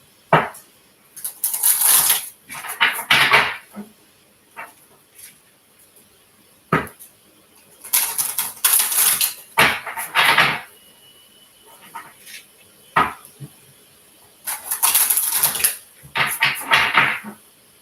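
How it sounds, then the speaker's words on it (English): Tarot cards being shuffled by hand in repeated bursts of quick riffling and sliding, close and crisp, separated by short pauses. "One more shuffle."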